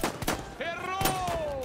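Gunfire in the Battlefield 1 video game: sharp bursts of shots with a rising whizzing tone between them, sounding close.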